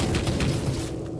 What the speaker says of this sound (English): Let me throw this grenade in there.